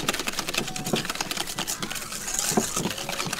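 A whisk beats egg yolks and sugar in a bowl for homemade ice cream, making a fast, steady scraping patter that keeps going without a break.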